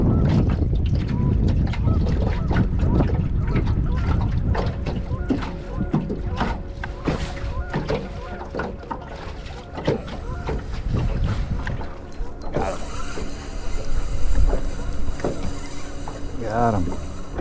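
Strong wind of roughly 20 to 25 mph gusts across open water on a cold winter fishing trip. Loud microphone buffeting and splashy boat noise fill the whole stretch, and someone talks at moments.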